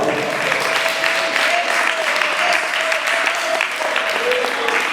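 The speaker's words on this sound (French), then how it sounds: "On peut acclamer pour l'encourager, s'il vous plaît, par notre avance." Loud, sustained audience applause fills a Congolese community evening in Drummondville, Canada, welcoming the community president, a dense steady roar of clapping for the full five seconds.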